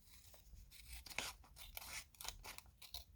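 Scissors trim excess paper overage from the edge of a card project, with several quick snipping cuts close by and distinct, with no talking.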